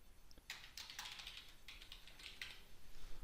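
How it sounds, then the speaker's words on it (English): Typing on a computer keyboard while entering a full name during an Ubuntu Server 10.04 installation: quick irregular clusters of light key clicks close to the microphone, with no talking. "I'll just type in my name."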